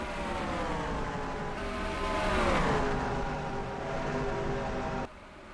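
Race car engines in NASCAR Racing 2003 at Atlanta, a steady droning roar with layered engine tones that swell louder and shift in pitch as cars pass, cutting off abruptly near the end.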